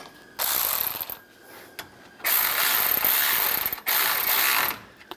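Ratchet wrench cranks bolts tight on the radiator cooling fan bracket of a 1997-2001 Honda CR-V, three loud buzzing runs of rapid pawl clicks separated by brief pauses, close up and without speech.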